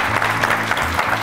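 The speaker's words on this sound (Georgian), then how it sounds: "აპლოდისმენტები დააჯილდოვოთ GIPA." A studio audience at a televised student book-quiz show gives a short, loud, dense burst of applause that stays steady throughout.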